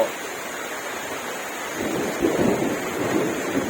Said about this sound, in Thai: ช่วงนี้นะครับเป็นฤดูการพายุเข้านะครับ เป็นพายุเข้า